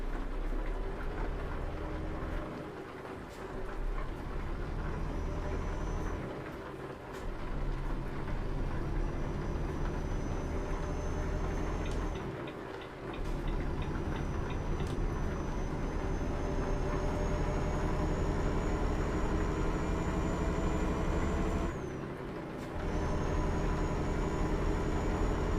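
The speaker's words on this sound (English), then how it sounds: "Let's just drive with lorry sounds for a bit." A Euro Truck Simulator 2 lorry drives through steady rain, with a continuous low engine drone and road rumble, gear shifts briefly dipping the sound a few times, and a thin whine above, all steady and unbroken without speech.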